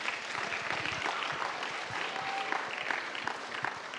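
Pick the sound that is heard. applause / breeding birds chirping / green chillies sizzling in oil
applause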